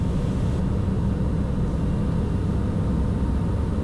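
A Socata TBM 910 turboprop on its takeoff roll gives a steady, loud, broadband engine roar with deep low rumble, continuous and unbroken throughout, with no talk over it.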